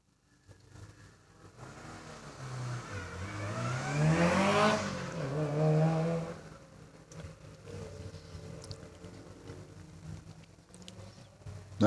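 A Subaru WRX rally car at a lakeside hillclimb approaches, its engine rising through revs to a loud peak before fading away into the distance.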